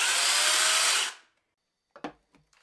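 A Saker battery mini chainsaw whirs loudly for about a second, then cuts off, followed by a few short clicks and knocks.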